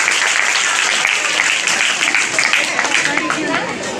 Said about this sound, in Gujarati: જોરદાર તાળીથી આપણે એનું સ્વાગત કરીએ